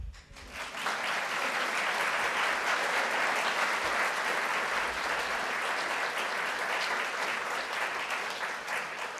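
An audience at a congressional district candidates forum claps steadily for the candidates Regina Moon, Daniel Gomez and Matthew Bristow, a dense, sustained round of applause that holds at an even level for about nine seconds with no voices over it.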